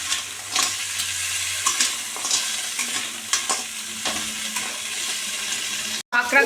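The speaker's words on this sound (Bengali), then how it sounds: "কাঁকড়াগুলো একটু ভেজে নিতে হবে" Crabs frying in oil in a kadai, a dense steady sizzle broken by repeated stirring scrapes, loud and close throughout.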